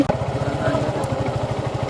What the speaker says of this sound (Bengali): আজকে রিয়াদ ভাই বঙ্গবন্ধু টানেলে মোটর সাইকেলে ঢুকবো ঠিক আছে তো